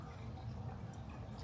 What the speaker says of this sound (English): this is bubbling away